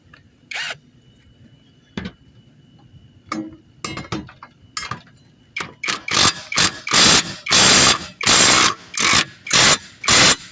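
Blade locking nut on a Troy-Bilt Bronco mower deck spindle being tightened, sparse isolated clicks at first, then a fast run of loud, close ratcheting bursts, no voices.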